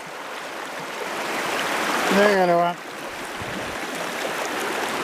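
Steady broadband rush of river water flowing around a trout angler standing mid-river, continuous and fairly close, with a man's brief spoken words partway through.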